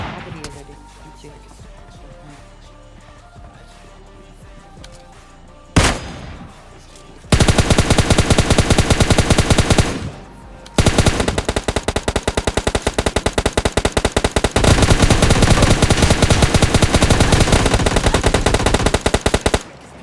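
Gunfire in the mobile game PUBG Lite, with a single loud shot followed by long sustained bursts of rapid automatic fire, one brief pause between them, loud and close.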